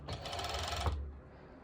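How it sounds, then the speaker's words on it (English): A serger overlocker runs a brief, fast stitching burst along the side seam of activewear shorts, then stops abruptly, leaving a faint hum. "I am serging with you. That's one side."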